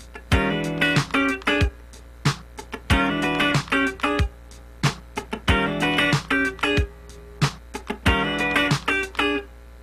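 A funk rhythm guitar part slides into a tritone interval from a half step below, played as tight, choppy chord stabs in a repeating syncopated pattern, clear and close.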